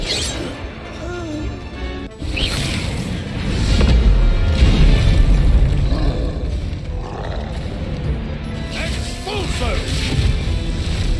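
Spell impacts and explosions crash out in a Harry Potter-style video game, heavy thuds and roaring blasts rising and falling over a continuous rumble, with a voice calling out during the fight.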